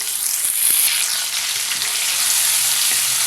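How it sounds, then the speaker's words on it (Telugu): Grated raw mango fries in a pan for sesame rice, a continuous loud close sizzle with faint stirring scrapes. "దీన్ని కూడా ఒక నిమిషం పాటు ఫ్రై చేస్తున్నాం"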